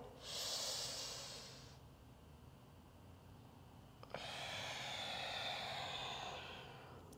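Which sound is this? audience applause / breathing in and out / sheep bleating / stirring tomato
breathing in and out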